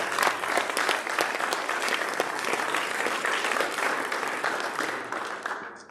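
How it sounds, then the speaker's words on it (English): Loud, sustained applause from a banquet audience at a football awards night, dense clapping filling the room steadily for several seconds before tapering slightly at the end. "Big round of applause for our offense."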